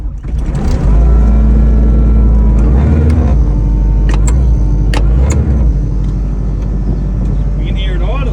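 Cheap Kubota skid-steer loader, abandoned for six years, running with a loud, deep diesel rumble close by, rising and dipping in revs before settling into a steady idle, with a person talking over it.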